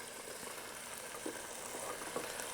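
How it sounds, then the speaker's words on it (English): Broccoli tipped into a pan of sizzling pheasant stir fry, a steady, fairly faint frying hiss that runs throughout, with a couple of small soft knocks as the pieces land. "Okay, now to this, I'm going to add my broccoli."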